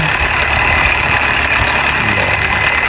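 A Mahindra Arjun 605 tractor engine runs steadily with a continuous, loud, rumbling drone and a faint knocking beat throughout, nearby and with no talking.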